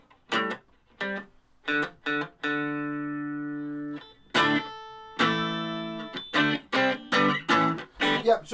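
An electric guitar played through a small Blackstar FLY 3 amp on its overdrive channel with distortion, heard alone as short chopped chords and a couple of long sustained ringing notes, close and fairly loud.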